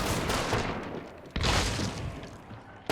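Rapid fanned shots from the Pax Trueshot pistol in a video game, dense cracking bursts in quick succession, loud and near, with no talk.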